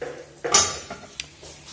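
Pork cheeks and onions get stirred in a cooking pot: a few metallic clinks and scrapes of a utensil against the pot, fairly close and moderately quiet, with no talk.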